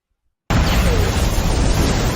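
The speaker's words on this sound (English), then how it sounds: "which exploded with a loud bang." After a brief silence, a grenade explodes under a car, a loud blast that roars on as a sustained rumble.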